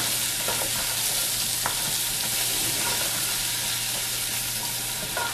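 Food sizzles steadily in hot bacon grease for a clam chowder, a dense continuous frying hiss with occasional soft pops and stirring clicks, close and fairly loud with no talking.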